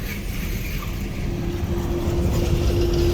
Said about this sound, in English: I caught up to the train that had left